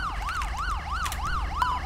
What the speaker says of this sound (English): Get the bloody siren off.